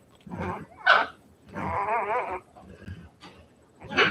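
A nursing mother dog growls and grumbles indoors in a few close, moderately loud bursts with short pauses between, no talking over it.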